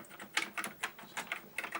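Fingers type on the keyboard of a Softel SE-3010 teletext editing terminal, producing a quick, uneven series of close, crisp key clicks, about a dozen in under two seconds, with no talking.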